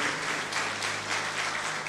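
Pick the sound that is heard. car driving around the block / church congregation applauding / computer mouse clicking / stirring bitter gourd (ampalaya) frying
church congregation applauding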